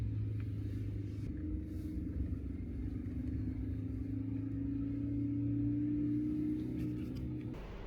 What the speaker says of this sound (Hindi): गाड़ी स्टेडीली क्लाइम कर रही है, एकदम स्टेडीली क्लाइम चल रहा है